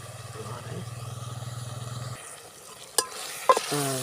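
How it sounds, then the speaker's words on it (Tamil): Ginger sautéing in a pan gives a soft sizzle with a rhythmic scraping stir for about two seconds, then a sharp clatter and a brief knock as the stirring stops. "இஞ்சி போட்டால் நல்லா வதங்கிடும்"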